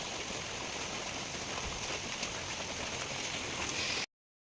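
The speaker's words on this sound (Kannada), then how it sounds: "ಮಳೆ ಇವತ್ತಿತ್ತು" Steady rain falls as an even, dense hiss of drops on surfaces for about four seconds, moderately loud and constant, then cuts off abruptly.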